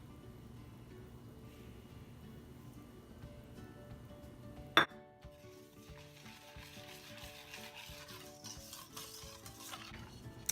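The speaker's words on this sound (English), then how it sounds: "Now one more stir." Vegan apple cider donut batter being stirred in a bowl, a soft quiet scraping and swishing that carries on throughout, with a single sharp clink of a utensil against the bowl partway through.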